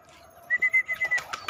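A few soft calls from a wild pigeon chick in a short rhythmic series, close by, followed by light fluttering or rustling sounds.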